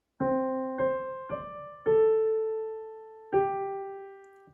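Five keyboard notes from a Moana song play one after another in a slow, simple melody, each ringing out clearly and fading before the next.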